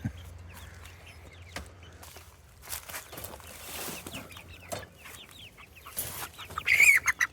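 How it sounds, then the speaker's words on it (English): Young chicks cheeping and clucking in short scattered calls over a low steady hum, with some rustling and occasional flapping or handling noises, growing louder and busier toward the end. "I got some chicks to go with him"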